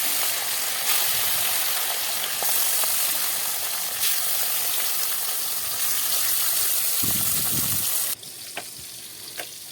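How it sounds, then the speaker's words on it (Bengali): Fish fry in hot oil in a wok with a loud, steady sizzle that holds throughout, then drops suddenly near the end. "তেলটা গরম হয়ে গেলে মাছগুলো ভেজে নেব"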